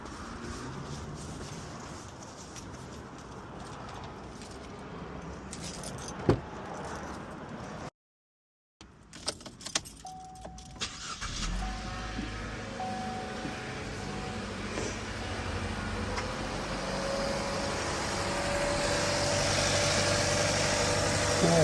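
A 2020 Chevy Trax is keyed on after a clicking pause, and its engine settles into a low, steady idle heard close up with faint rattling.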